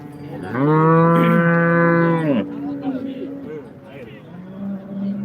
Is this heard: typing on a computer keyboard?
no